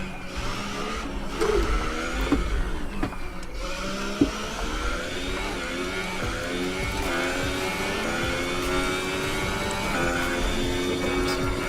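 Formula 1 car engine in the F1 2018 racing game at Monaco, held at full throttle with a loud, steady high-pitched whine and repeated rising gear-change sweeps, continuous and close throughout.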